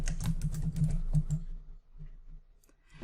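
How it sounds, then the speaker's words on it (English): Keys clatter rapidly on a computer keyboard while text is entered into a Microsoft Office document, a close, busy burst of tapping that thins out into a few sparse, quieter keystrokes near the end. "as I start typing"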